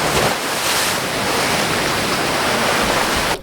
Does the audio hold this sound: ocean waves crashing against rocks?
yes